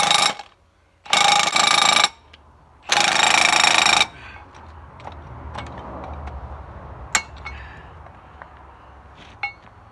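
An impact tool chisels at a Sauerman dragline bucket, hammering loudly in three sustained bursts. Quieter metallic clinks and knocks follow in the background.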